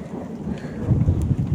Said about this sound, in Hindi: मेरे फूलों के लिए भी काफी अच्छी बारिश हो रही है